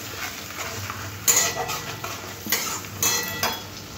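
Spice masala with tomato and green chili paste stir-fried in a pan, a steady sizzle with scraping spatula strokes and a few louder clinks of utensil against the pan, close and alone.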